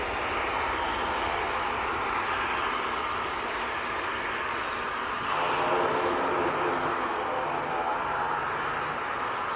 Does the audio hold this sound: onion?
no